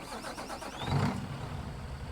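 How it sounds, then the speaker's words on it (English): A truck engine in the American Truck Simulator video game idles and rises briefly into a rev, a low mid-pitched rumble close by, with a faint whine overhead. "Let's let this guy pass so we can hear our engine here."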